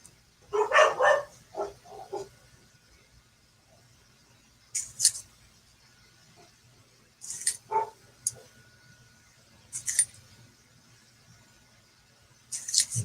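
Several dogs give short, sharp barks in scattered bursts, some close and some farther off, with quiet gaps between them during a quarter hunt outdoors.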